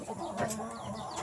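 Chickens cluck in a brief, busy chorus of overlapping calls, close by and at moderate volume.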